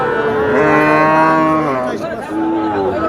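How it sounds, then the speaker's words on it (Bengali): A cow moos loudly and close at a Betaga cattle market, one long drawn-out bellow followed by a shorter second call, with faint crowd murmur behind. "এটা কি দেশি গরু ভাই? দেশি গরু।"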